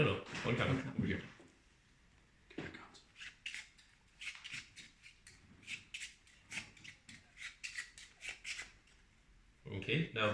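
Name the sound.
shuffling playing cards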